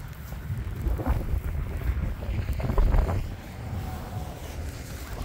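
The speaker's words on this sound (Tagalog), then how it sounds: "Lakas ng hangin." Strong wind roars and buffets the microphone during a snowstorm in British Columbia, a continuous low rumbling gust that swells around the middle and stays loud throughout.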